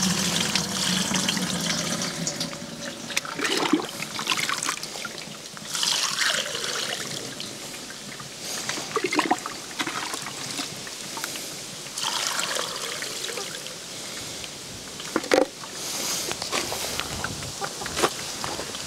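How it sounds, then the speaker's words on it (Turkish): Liquid trickling steadily while being strained, a soft continuous dribble with occasional splashes and clinks of a utensil, close up and with no talking. "süzmeye başlıyorum."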